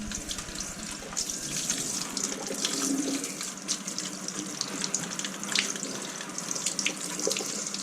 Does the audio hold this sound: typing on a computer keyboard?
no